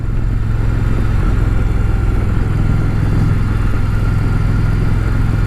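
Indian Challenger Dark Horse motorcycle engine running steadily up close, a loud continuous low rumble with no clear revs or pauses and no talking.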